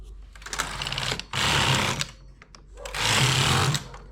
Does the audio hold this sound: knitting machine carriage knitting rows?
yes